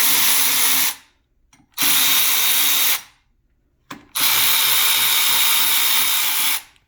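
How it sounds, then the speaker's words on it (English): An electric ratchet zips off bolts on a Honda H/F-series manual transmission in three loud, close bursts of high-speed whirring, each lasting one to two seconds, with short quiet gaps and a faint click between runs. "I just recommend getting an electric or battery ratchet"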